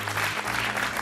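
A studio audience at a television game show applauds steadily and loudly, with dense, continuous clapping throughout.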